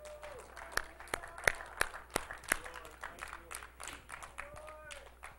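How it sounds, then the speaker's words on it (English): Congregation at a church service claps and cheers in scattered sharp bursts, with voices calling out amid the applause in a reverberant hall. "Give the Lord a hand clap and a shout."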